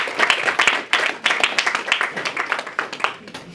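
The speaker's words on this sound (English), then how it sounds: "let's give it up for Panina one more time" Lively audience applause at a comedy show in a lodge, bursts of close, crisp hand clapping that swell and dip in waves, with a few whoops and voices mixed in.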